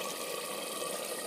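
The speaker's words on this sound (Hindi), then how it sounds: "200 ग्राम मैंने पानी डाल दिया इसके अंदर" Water is poured into a pot of frying goat liver for kaleji, giving a steady, fairly faint hissing splash that runs evenly throughout with no talk.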